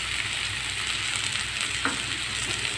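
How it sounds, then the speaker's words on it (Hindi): Semolina being roasted with potatoes in a pan for upma, a continuous close sizzle with soft scraping stirs and one brief clink. "अब आप इसे रवा डाल दें"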